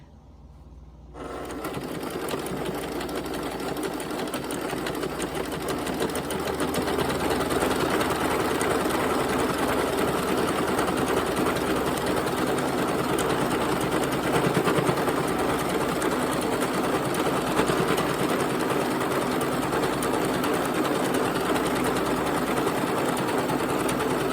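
A sewing machine runs steadily and continuously while piecing a jelly roll quilt, its fast motor hum and needle chatter holding at an even, close level throughout after a brief quiet start.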